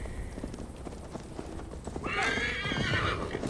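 Horses in the Assassin's Creed Valhalla video game trot with a rapid, steady clip-clop of hooves, then one lets out a loud, drawn-out neigh near the end.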